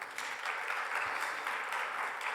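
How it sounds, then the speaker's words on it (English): Audience at an academic conference on Black Canadian studies applauding panelists, a steady wash of clapping from a crowd that holds evenly throughout, with no talk over it. "A round of applause for them once again."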